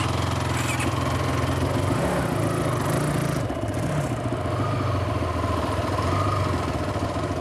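A fast-accelerating quad bike engine running in gear, a loud, continuous mid-pitched rumble close by that shifts in pitch partway through, with no talking.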